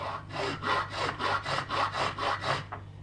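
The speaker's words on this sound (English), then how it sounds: "file just a little bit this way, it sharpens it just a little bit more quickly." A hand file rasps across saw teeth being cut into the spine of a knife, in a steady rhythm of about nine even back-and-forth strokes, close and alone.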